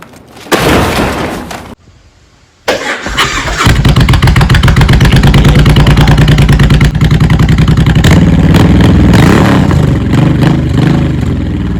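A Suzuki Intruder 1500 motorcycle starting up close by: a loud crank and a brief stall, then the engine catches and settles into a steady, throbbing, rapid-pulsed idle that stays loud to the end.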